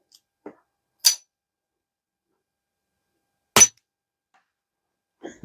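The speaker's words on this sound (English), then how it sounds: "The actual clinking of that quiet hitting the cardboard is making more noise than the gun functioning." Spent CCI Quiet rimfire cartridge cases clink onto cardboard beside a suppressed gun, giving two sharp, bright ticks well apart, with a few fainter taps and knocks around them in near silence.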